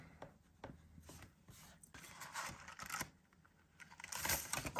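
A pencil scratches and rubs on paper at close range, irregular strokes growing louder toward the end with no talking.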